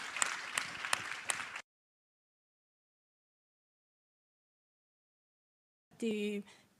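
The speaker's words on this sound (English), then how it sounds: "worth a warm round of applause" A short burst of audience applause at the APEC CEO Summit, with a few sharp claps, stops abruptly, followed by a long silence and then a voice starting to speak.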